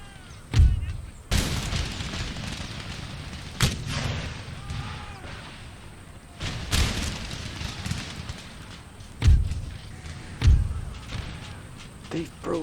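Cannon fire in the game Empire: Total War, with a handful of heavy booms at irregular intervals over a low rumbling battlefield background.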